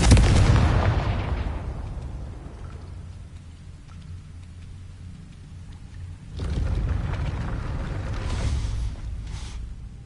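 A Confringo blasting spell explodes in the Hogwarts Legacy video game: a loud, broad blast opens and decays over a couple of seconds, then a second rumbling burst swells midway with crackling debris, no voices heard.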